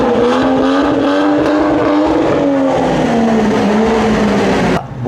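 An MG Cyberster sports car engine revs hard nearby, its roar swelling and easing in pitch before cutting off abruptly at the end.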